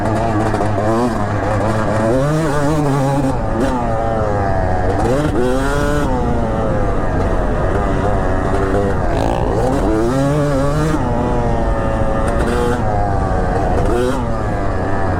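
An old two-stroke 250cc dirt bike engine, ridden hard through a corner, wails loudly and continuously, its pitch sweeping up and down as the rider revs and shifts, with no talk heard.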